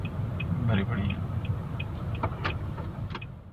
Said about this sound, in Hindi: काफी ट्रैफिक भरी पड़ी है।